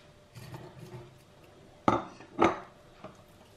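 Onions dropped into a cooking pot as a layer, a couple of sharp clattering knocks after some soft rustling, with no talk.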